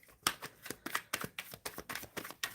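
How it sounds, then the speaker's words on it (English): Tarot cards are shuffled by hand in quick, crisp riffling bursts, about a dozen rhythmic flutters close to the mic with no talking. "I'm shuffling for the collective for this live reading"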